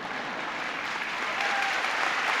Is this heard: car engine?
no